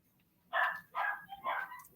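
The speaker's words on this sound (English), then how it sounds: "my dogs are going crazy in the background" Three quick barks from dogs in the next room, muffled and moderately loud, follow one another at an even pace over a quiet background.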